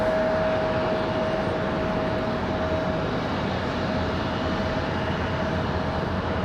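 A passenger jet, flight ICE 820 headed back to Reykjavik, rumbles steadily at Raleigh Durham airport, a broad continuous roar with a thin steady whine, moderately loud and without speech.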